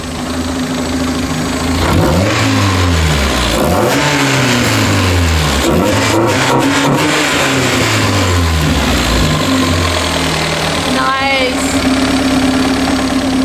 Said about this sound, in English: Let's see how it sounds when I start the car.